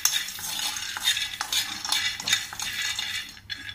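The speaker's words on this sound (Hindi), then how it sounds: "फिर हम इसमें आधा कप मूँगफली डालेंगे और मीडियम फ्लेम पर हम इसको 2 मिनट के लिए अच्छे" Half a cup of peanuts dry-frying in a kadhai over a medium flame, a steady dry rattling and scraping as they are stirred around the metal pan, close and continuous.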